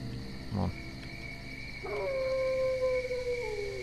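Dog howling in STALKER Call of Pripyat, a long, clear, drawn-out howl that slides slowly downward over a low ambient hum, preceded by a brief muffled thump.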